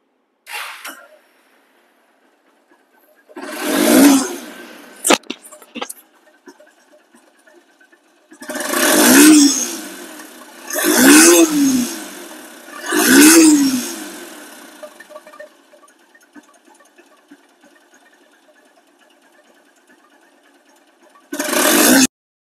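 Honda X Blade motorcycle, second-hand and in showroom condition, revving in several sharp throttle blips that rise and fall back to a quiet idle between them, close and loud with no talking.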